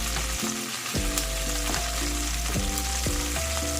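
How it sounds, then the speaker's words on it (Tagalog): Onion sautéing in hot pork fat for adobong sitaw with pork liempo, a dense, loud sizzle that holds steady throughout, with faint steady tones running underneath. "Igigisa na natin."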